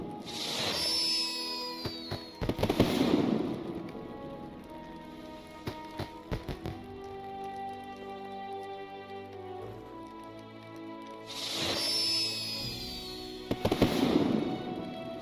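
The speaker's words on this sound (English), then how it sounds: "There's the fireworks." Fireworks at the Mid-Summer Festival in Lord of the Rings Online: whistling launches explode into crackling, fizzing showers in two clusters, set against continuous in-game music.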